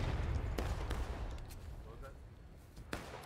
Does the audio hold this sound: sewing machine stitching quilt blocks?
no